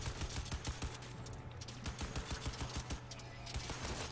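Turret gunfire in the video game Crysis 3, a rapid, steady burst of automatic shots with punchy low thumps, loud and sustained for several seconds with little pause.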